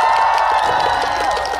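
An audience applauds a singer at a stage performance, a dense, loud wash of clapping and cheering that holds steady throughout, with a faint tonal hum underneath.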